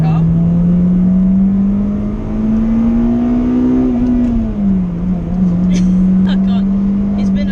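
A Honda Civic Type R EP3, warmed up and pulling in second gear, holds a strong steady engine drone that climbs in pitch as revs build, then dips slightly and settles, loud and close throughout.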